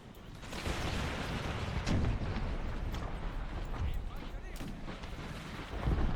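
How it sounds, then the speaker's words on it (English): Enemy cannons and musket lines firing in an Empire: Total War battle, a steady rumbling barrage of distant booms and crackling volleys running throughout, with voices talking over it. "the guns are shooting us"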